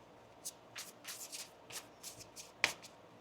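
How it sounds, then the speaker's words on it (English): A deck of tarot cards shuffled up close in a quiet room, with soft irregular riffling bursts and one sharp snap near the end, no speech. "One more shuffle here, please, and thank you."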